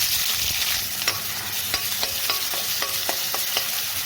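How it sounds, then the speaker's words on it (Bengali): Chickpeas for ghugni fry with spice paste in a pan, with a steady broadband sizzle throughout and a run of sharp, evenly spaced clicks of a spoon scraping and stirring against the pan. "আমি একটু মশলা দিয়ে খালি ভেজে নেব।"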